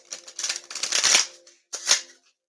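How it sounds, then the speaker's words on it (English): A deck of small square cards is shuffled by hand, a close, fluttery riffle followed by a short pause and a second quick riffle, loud and crisp. "We'll give them a real shuffle."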